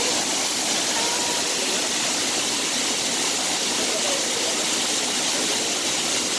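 Constant hissing roar of a nearby waterfall, dense and level from start to finish, with no breaks and only a faint trace of voices in the background.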